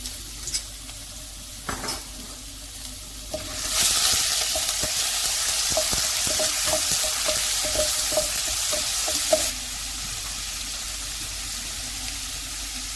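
Garlic sizzles in a spoonful of hot oil in a pan, a loud continuous frying hiss that starts abruptly and stops after several seconds, with rhythmic spoon scrapes and clinks against the pan while it cooks; earlier, a couple of utensil taps sound alone.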